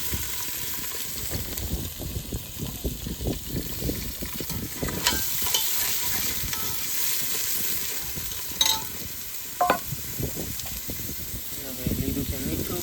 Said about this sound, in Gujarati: ડુંગળી નાખી દીધી છે